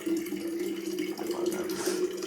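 A tap runs water into a bottle, producing a steady, fairly quiet stream with a faint tonal ring that stays even for the whole short stretch.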